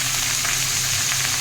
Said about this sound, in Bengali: এখন এটা ভাজবো